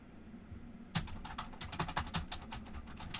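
Quiet room tone gives way to a steady run of computer keyboard typing, rapid light keystrokes clicking close by for a couple of seconds.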